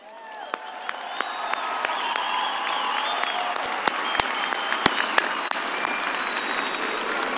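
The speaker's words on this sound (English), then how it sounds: "Please join me in a round of applause for Ms. Adria Dunn Harris and Mr. Edwin Cord" An audience at a fall commencement ceremony claps in a steady, full round of applause, with a few sharper individual claps and faint cheering standing out.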